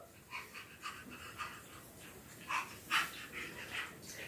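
A voice mimics a dog's bark with soft, breathy repeated 'woof'-like syllables, faint and close, in a farm-animal sound game.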